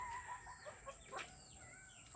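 Backyard chickens cluck and peck during feeding, several short, soft calls scattered at a moderate distance with no talk over them.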